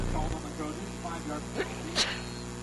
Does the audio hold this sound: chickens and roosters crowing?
no